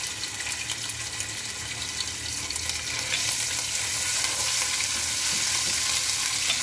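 Ginger garlic paste hits hot melted ghee in a pan and fries with a steady, close sizzle that grows louder and denser partway through, with no voices.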